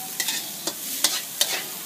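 Spatula scraping and stirring Thai fried rice in a hot pan with the gas turned off, several close, distinct scrapes at an uneven rhythm over a soft, steady sizzle.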